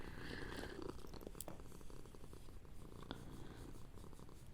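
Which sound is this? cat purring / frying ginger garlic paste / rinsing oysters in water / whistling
cat purring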